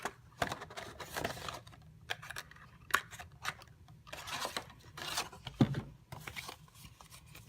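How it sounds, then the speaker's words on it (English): Scissors snip through folded cardstock to cut out a paper circle for a handmade card, giving soft, irregular crunching cuts and rustles at close range. "cut out that circle"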